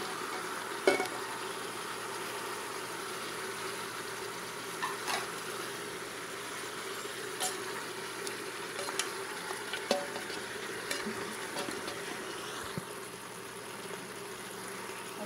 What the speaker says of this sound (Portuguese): Agora ela tá fritando.